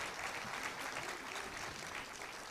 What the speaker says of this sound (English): Now I request all the audience to have a big clap